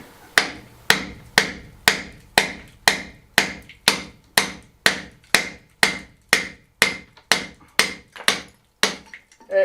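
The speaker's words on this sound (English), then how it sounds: "going to chisel a bit off this stone to allow it to open" A big hammer strikes a chisel to chip stone away beside an old wooden corral door. About sixteen sharp, evenly spaced metallic knocks ring out close by, and each one rings briefly before the next.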